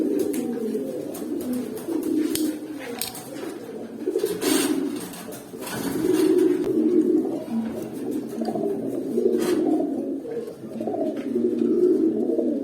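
Pigeons cooing steadily, several birds close by in a loft, a continuous layered low coo with rhythmic swells and no talking.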